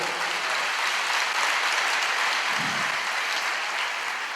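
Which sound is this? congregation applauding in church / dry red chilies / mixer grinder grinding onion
congregation applauding in church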